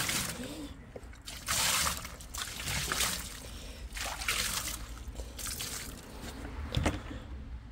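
Water mixed with disinfectant swilled through a blocked drain, trickling and sloshing in irregular faint bursts with soft splashes.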